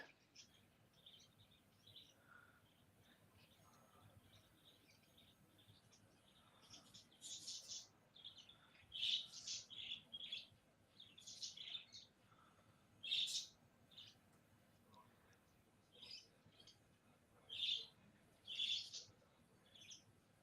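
A frog chirping in the soundtrack of the film The Town that Dreaded Sundown: sparse, high chirps in short clusters against a near-silent background, growing more frequent and louder toward the end.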